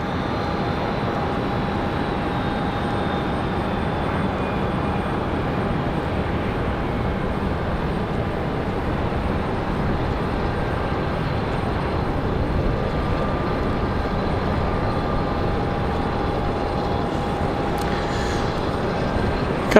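A plane arriving at Raleigh Durham International Airport at night, a steady broad engine roar held at an even level throughout, with a faint high whine on top and no talk.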